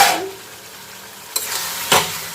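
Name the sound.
prawns being stir-fried in spicy curry masala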